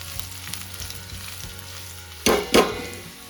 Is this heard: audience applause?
no